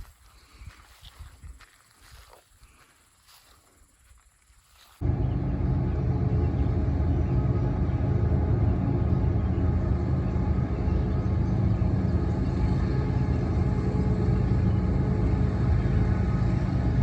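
A train rumbling across a railway bridge directly overhead, heard from underneath: after a few seconds of quieter ambience, a loud, deep, continuous roar sets in abruptly and holds steady to the end.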